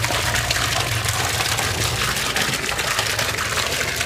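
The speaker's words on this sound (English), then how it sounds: "There's the tap water coming out." Tap water pours steadily from a spout at Santa Barbara hot springs, a loud, continuous gushing rush heard up close with no voices over it.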